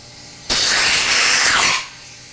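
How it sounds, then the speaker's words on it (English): A blast of compressed air blows under a Yamaha R6 handlebar grip to free it, a loud close hiss starting abruptly, holding for about a second and then tapering off. "compressed air"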